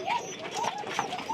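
Pigeons coo on a farm in repeated soft, throaty calls, several overlapping at close range with light background noise.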